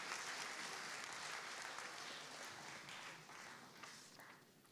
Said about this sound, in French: Est-ce qu'on peut applaudir pour tous nos gagnants, s'il vous plaît?